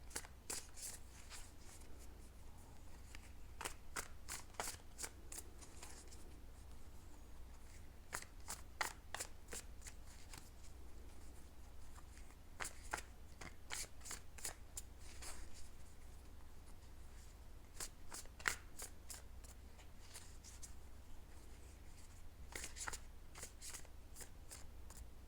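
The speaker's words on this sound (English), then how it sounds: "I'd like to give it a little extra shuffle while I connect to your energy" Tarot cards being shuffled by hand in a quiet room, with repeated crisp riffling bursts in clusters separated by short pauses, close and soft, with no voices.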